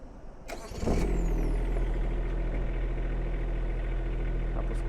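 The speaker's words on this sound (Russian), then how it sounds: "Поднимаем рычаг, заводим двигатель." A Kubota U10-5S2 mini excavator engine cranks and catches, then settles into a steady, loud low idle that runs on without pause.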